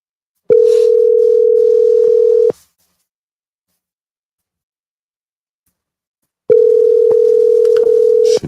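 A phone call's ringback tone repeats while waiting for an answer: two long, loud steady tones, each about two seconds, separated by several seconds of silence, alone with no talking.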